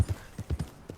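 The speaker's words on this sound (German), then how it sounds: "Pilgrim, weil du so ein hammercooles Pferd bist" Horse hooves clip-clop in Red Dead Redemption 2, a brief run of about half a dozen soft, close hoofbeats in an uneven walking rhythm.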